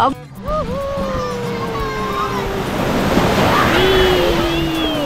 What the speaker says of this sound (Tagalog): Lakas ng alon mga kapatid.